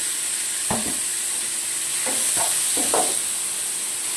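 Grated pointed gourd sizzles in hot oil with a bright, steady hiss, broken by a few scraping strokes of a spatula stirring it in the pan.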